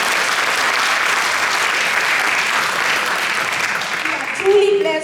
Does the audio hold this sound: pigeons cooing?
no